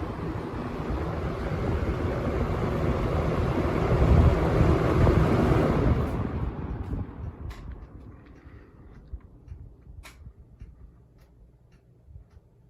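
A 1970s Lakewood K-Mart K 223 box fan runs loud with a steady whooshing roar, then is switched off from high and winds down, the rush of air fading over several seconds to a faint whir with a few light ticks.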